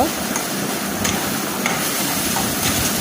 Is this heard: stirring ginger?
yes